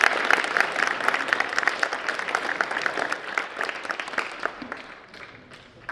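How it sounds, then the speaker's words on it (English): Students giving a round of applause at a school academic awards event, a burst of crowd clapping that gradually thins and fades out. "So give yourselves a round of applause,"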